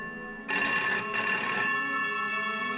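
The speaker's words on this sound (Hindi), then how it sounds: "आनंद का फोन बजा" A home landline telephone rings, starting abruptly and sustaining a loud, steady electronic bell tone with no voices.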